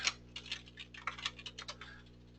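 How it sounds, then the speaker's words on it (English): Light typing on a computer keyboard during data entry into a search filter, a quick irregular patter of soft key clicks for about two seconds, fairly quiet and close, with no talking. "So this is where I'll go ahead and type in New York."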